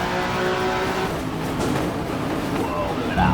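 Nissan Skyline Z tune mod engine in rFactor racing game, revving hard with a steady loud drone and rising upshift whine near the end, a voice talking over it.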